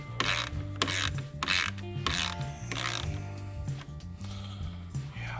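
Socket ratchet loosening a bolt on the turbo sump of a 2017 Subaru WRX, repeated bursts of rapid clicking close up, with a steady mechanical hum underneath.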